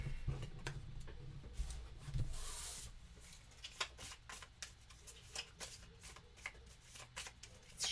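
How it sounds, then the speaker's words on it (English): A deck of Marvel Legendary game cards is shuffled by hand at a tabletop, giving repeated soft riffling and rubbing bursts, close and fairly quiet, with no talking. "Let's shuffle this up again."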